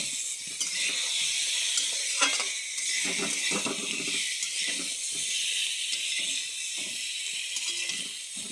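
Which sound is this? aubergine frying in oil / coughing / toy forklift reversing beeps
aubergine frying in oil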